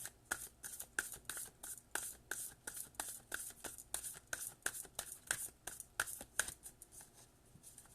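A deck of tarot cards is shuffled up close, giving a quick, even run of soft papery riffles and slaps, about two or three per second, quiet and with no talking.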